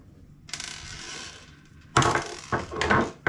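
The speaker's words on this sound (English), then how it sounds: "Okay, so just the last screw coming out now" Last screw turned out of a knife grip, giving short close ratcheting, clicking mechanical sounds in a few bursts with brief gaps, no talk.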